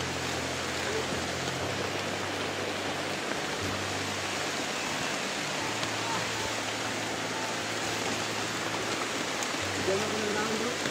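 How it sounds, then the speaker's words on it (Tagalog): Heavy rain pours steadily as a broad, even hiss with a low rumble underneath, constant and close throughout, with no voices standing out. "Ang lakas na ng ulan."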